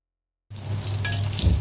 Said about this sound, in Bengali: তারপরে আমি এটাকে ভাজছি।